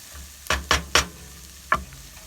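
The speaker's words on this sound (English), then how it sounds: "the onions are sweating down, the peppers are sweating down, there's a bit of colour starting to form on the food" Onions and peppers sweating in a pan, a quiet sizzle under four quick stirring scrapes of a spoon, close and with no talk.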